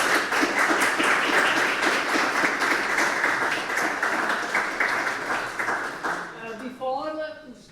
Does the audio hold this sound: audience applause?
yes